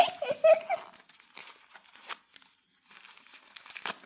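Packaging crinkles and tears in short close bursts as a box is opened, with quiet pauses between the rustles and a voice speaking softly at moments.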